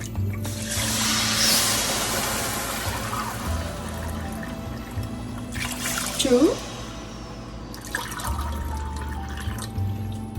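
Water is poured into a pan of sugar to make syrup for gulab jamun, a continuous close splashing trickle over several seconds with a voice talking over it.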